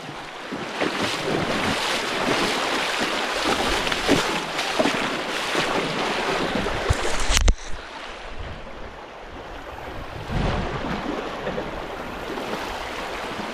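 A strong river current rushes steadily with broadband water noise and gusts of wind buffeting the microphone. There is one sharp knock midway. No voices.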